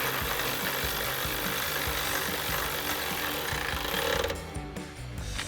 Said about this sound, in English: we can switch to a 13 millimeter socket to tighten down our top bolt.